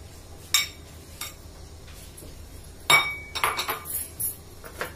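Chopped vegetables for pakora batter (onion, potato, spinach, chillies) dropped into a mixing bowl, a few sharp clinks and thuds spaced apart, then a denser cluster of knocks and rattles near the end, close and fairly quiet.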